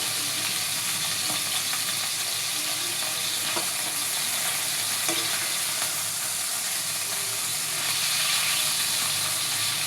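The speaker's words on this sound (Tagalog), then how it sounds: "Halo-haluin muna natin." Meat frying in oil with soy sauce while it is stirred in a pan for pancit, a steady loud sizzle and hiss with faint scraping of the spoon throughout.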